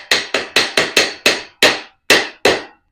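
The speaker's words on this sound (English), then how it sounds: "And I got my little hammer. Give it a little tap in place." A small hammer taps a shelf section into place, eight sharp close knocks in a steady rhythm that slows slightly toward the end, each ringing briefly before fading.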